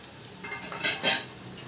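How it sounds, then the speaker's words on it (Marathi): Spices tipped into a pan for a Maharashtrian bhaji, heard as a few brief metallic clinks and scrapes of a spoon against the pan, close and fairly quiet, with no one talking. "हे सगळे मसाले आपण आता यामध्ये घालूया"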